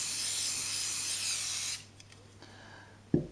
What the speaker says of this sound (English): There's the Scotchguard spray on the right hand tie